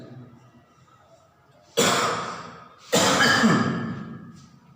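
Two harsh, close coughs from a person with a cough and dengue, spaced about a second apart, each burst trailing off, with quiet room tone between them.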